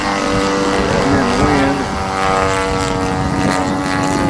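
A 50cc gas engine spinning a 23x10 propeller on a Revolver RC model airplane in flight makes a loud, steady buzzing drone with a slightly wavering pitch that lasts throughout.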